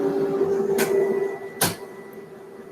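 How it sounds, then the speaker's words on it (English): Office inkjet or laser printer making short mechanical noise, two brief bursts of feed and motor whir about a second apart, fairly close over a quiet room hum. "my printer's just decided to make some noise"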